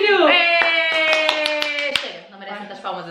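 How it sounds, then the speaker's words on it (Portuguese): A few sharp hand claps ring out at a steady beat while a voice sings and talks over them. "Palmas assim."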